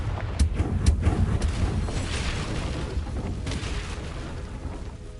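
A Confringo spell blasting in Hogwarts Legacy, a rumbling fiery burst with a sharp crack early on, then sustained crackling roar that slowly fades, loud and close with no voices.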